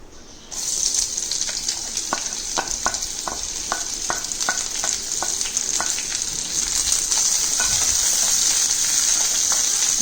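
Finely cut shallots sizzle steadily in a pan for a mutton fry, a bright continuous hiss joined by a row of light, regular stirring taps near the middle; no one speaks.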